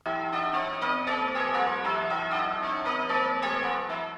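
Church bells at St Mary's ring a full peal in the method Yorkshire Surprise Major, with rapid overlapping strikes that keep a steady changing rhythm. The ringing is loud, dense and continuous, and no one speaks.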